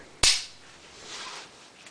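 A single sharp metallic snap from a dry-fire trigger pull on an RIA tactical pistol, close and crisp, then a short fading tail and quiet.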